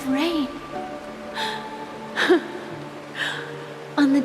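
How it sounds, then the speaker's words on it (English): Rain pouring in Honkai: Star Rail, a constant gentle wash of noise beneath soft held music, with a few breathy vocal sounds and speech rising above it at intervals. "This is the sound of rain."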